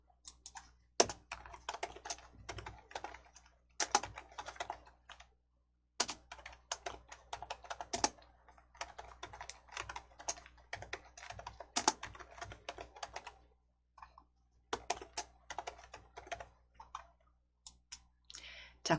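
Computer mouse clicks from someone coding in Entry arrive as quick, sharp taps, grouped in irregular bursts with brief silent gaps. The sound is close and fairly quiet, with no talking.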